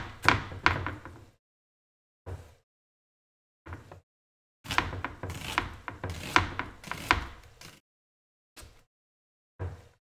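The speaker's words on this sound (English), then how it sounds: "all of our cutting boards rock back and forth, so this noise is just inevitable" Bursts of knife chopping on a wooden cutting board that rocks on an uneven counter, knocking against it between strokes; close and fairly loud, with pauses between bursts.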